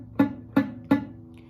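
Three soft, muted thuds from a guitar string lightly touched with a finger, evenly spaced about a third of a second apart, close and quiet.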